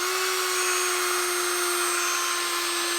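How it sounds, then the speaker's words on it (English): Corded Dremel rotary tool running off a Milwaukee M18 Top Off portable power supply, a steady high-pitched motor whine with a constant tone, close and unbroken throughout. "just plug the Dremel in"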